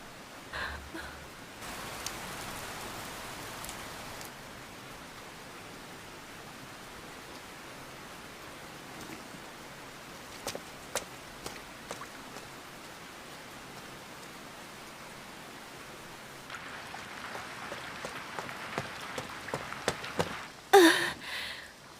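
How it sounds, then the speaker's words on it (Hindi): Steady hiss of rain falling in an anime scene, continuous and fairly soft, with occasional louder clicks and a brief sharper burst near the end. "फिर से बारिश शुरू हो गई है।"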